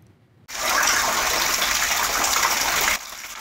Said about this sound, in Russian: где с потолка хлынул целый водопад